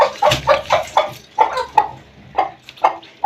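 A hen clucks repeatedly in short, close, loud bursts, about a dozen rhythmic calls, with no talking.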